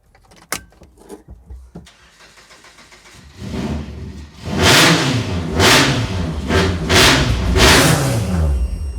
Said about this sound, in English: we're going to turn this on and rev